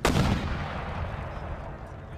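Artillery guns fire in the video game Empire Total War, with one sharp, loud boom followed by a rumbling tail that slowly dies away over about two seconds.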